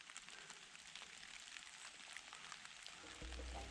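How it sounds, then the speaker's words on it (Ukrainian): Steady soft spring rain patters on leaves in a forest, a faint continuous hiss with scattered drips, fairly quiet and without any voices. "Чуєте, як дощ по листі шумить?"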